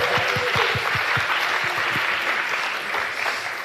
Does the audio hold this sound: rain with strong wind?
no